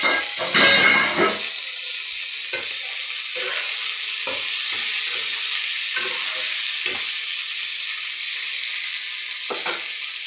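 Chopped green chillies sizzle and hiss in a hot pan for a Bengali chilli begun (aubergine) dish, with a loud burst as they go in, then steady frying and occasional stirring scrapes.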